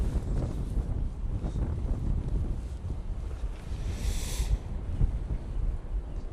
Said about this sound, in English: it's just that little bit breezy